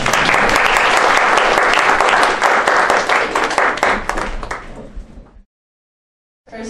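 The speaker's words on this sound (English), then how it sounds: "So a round of applause, please." Audience at an International Women Award presentation in Toronto breaking into loud, sustained applause that fades out after about five seconds into silence.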